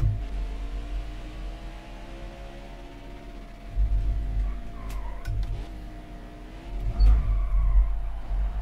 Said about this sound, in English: Do a victory lap here. It just wants to burn the tires down.